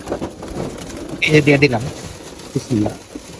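About thirty-five breed pigeons coo together in low, throaty bursts, a cluster of calls followed by a shorter one, over a soft murmuring background.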